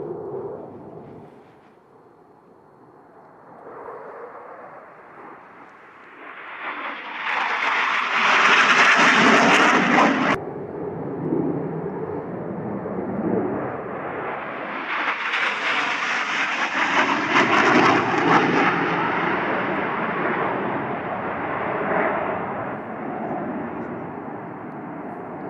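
Military jets roar through the Mach Loop valley in two loud passes. Each rushing, rumbling roar swells up, peaks and slowly fades, and faint talk sits underneath.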